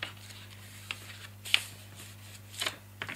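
Paper notebook cover being folded by hand, with a few short crisp creasing and rustling snaps spaced out over a quiet background hum.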